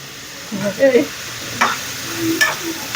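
Spices, garam masala and turmeric, being stirred in a pan with tomato, salt and chili powder in Goan home cooking, a few close scraping strokes over a soft sizzle, with no talk.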